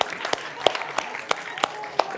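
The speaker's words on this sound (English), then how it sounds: "Big applause." A live audience at a Scrum conference session in Belgrade claps, with a scattered, uneven run of sharp hand claps rising above a murmuring room.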